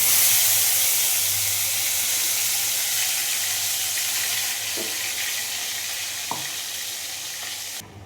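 Spice paste sizzles steadily in hot oil after fish frying, a dense continuous hiss with a couple of faint clicks of a utensil near the end.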